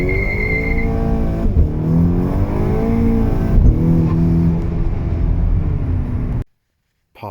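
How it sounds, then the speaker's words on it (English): Volkswagen GTI with a turbo accelerating hard from 0 to 60, the engine note rising through several gear changes, loud and close, before cutting abruptly to silence. "let's do a quick 0 to 60 and make sure the turbo and everything's good."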